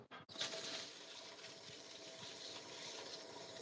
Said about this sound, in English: We're going to rinse again with cool water in the direction of the hair.